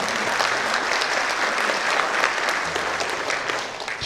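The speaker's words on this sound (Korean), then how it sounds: "박수 한번 쳐주세요." Audience applause at a guest lecture, steady dense clapping from a seated crowd lasting throughout and easing slightly toward the end.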